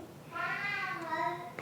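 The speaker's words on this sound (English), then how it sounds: "Oh my goodness, the cats are gone nuts." Cats meowing loudly and insistently nearby in a home kitchen, a drawn-out, wavering meow lasting over a second with no talk over it.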